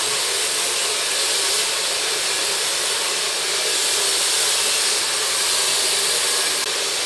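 A hair dryer fitted with a nozzle blows on long curly hair with a steady, loud airy hiss and motor whir, continuous and unchanging throughout.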